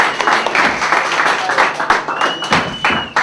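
Audience applause at a comedy club show, a dense burst of hand clapping with individual claps and thuds standing out, fairly loud throughout.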